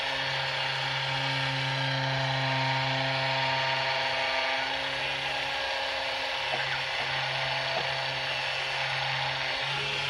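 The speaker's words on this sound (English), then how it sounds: "You're only supposed to use this for 2-3 minutes max on this rapid release because it's such a high frequency" A Rapid Release high-frequency therapy device runs during a chiropractic myofascial pain treatment, giving a steady, unbroken mechanical buzz with a whirring, ratchet-like texture that continues at even loudness throughout, with no talking.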